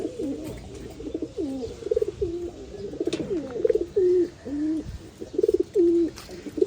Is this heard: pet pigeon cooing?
yes